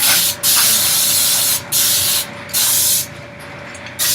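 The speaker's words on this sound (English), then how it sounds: "spraying some non-stick cooking spray onto the pans" Non-stick cooking spray being sprayed onto cake pans: four or so steady, close hissing bursts of aerosol, each lasting about a second, separated by brief pauses, with no talking.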